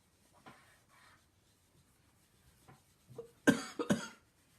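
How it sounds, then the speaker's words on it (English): Two or three close, sharp coughs from a woman with a lingering winter cough, coming near the end after a quiet stretch with faint rustling, with no talking. "Nana still has her winter cough."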